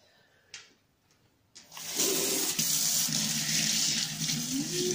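A kitchen tap turns on and runs water into a sink for washing up, a steady close hiss and splash after a few quiet clicks and knocks, without speech.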